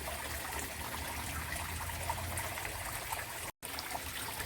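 Water trickles and flows steadily through an aquaponics grow bed system, a continuous soft, even stream heard close with no talk.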